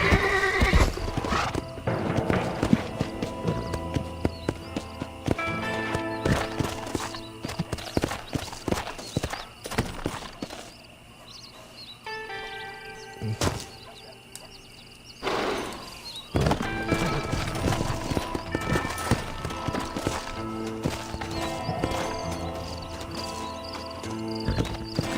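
Horse hooves clip-clop at a gallop with repeated neighs and whinnies in the Red Dead Redemption video game, set over a steady game music and ambience bed, loud and continuous with a brief quieter lull midway.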